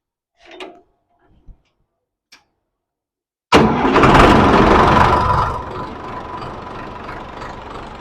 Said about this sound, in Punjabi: ਇਹ ਜਿਹੜਾ ਸੋਨਾਲੀਕਾ ਦਾ 2021 ਮਾਡਲ ਇੰਜਨ ਆ ਇਹਦੀ ਆਵਾਜ਼ ਵਿੱਚ ਬਹੁਤ ਡਿਫਰੈਂਸ ਆ